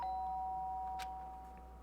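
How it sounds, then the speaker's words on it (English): A single soft electronic doorbell chime rings out in the video game Danganronpa against a quiet, humming background, then fades. "The sharp sound of the doorbell pierced my sleepy haze and pulled me back to the real world."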